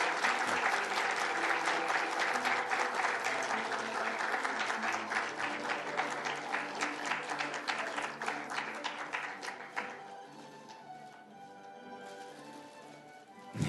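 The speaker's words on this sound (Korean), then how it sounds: "여러분 박수로 축하해 주십시오." An audience at a university newspaper's 90th anniversary award ceremony claps warmly and steadily for about ten seconds, then fades to a few scattered claps in a large hall.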